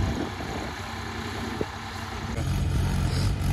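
A tractor engine labours steadily while pulling a loaded trolley in reverse, a continuous near, heavy drone that thickens toward the end, from a Swaraj 744 XT versus Mahindra 575 XP Plus pulling contest.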